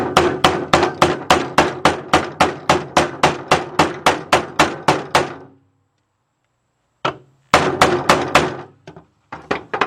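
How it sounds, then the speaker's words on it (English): Rapid, evenly spaced hammer blows seating a seal flush into an engine cover on a Chevy Equinox/Buick Rendezvous engine, about a dozen and a half sharp metallic taps, then a pause before a few more scattered strikes, close and loud. "I'm taking the hammer and I'm going around to get that seal in perfect."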